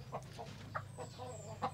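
Rhode Island Red chickens on a farm give soft, low clucks at a moderate distance, a handful of short calls scattered irregularly over a faint steady background hum.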